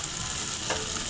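Spices with cumin and salt being fried and stirred in a pan, a steady close sizzle with a soft scrape of stirring partway through, no talking.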